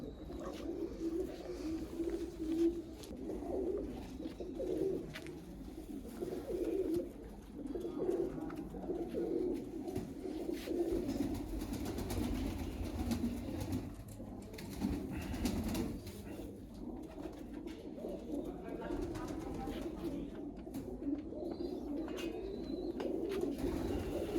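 Pigeons coo steadily throughout, a low soft burbling that continues without pause over a faint background hum.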